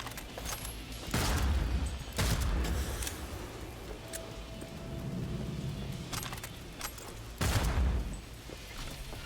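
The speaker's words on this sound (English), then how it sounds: "Really enjoying getting all of these kill shots with Jackie's pistol specifically." Jackie's pistol fires in the Cyberpunk video game, four loud, sharp shots at uneven gaps, with low rumbling game ambience and faint clatter between them.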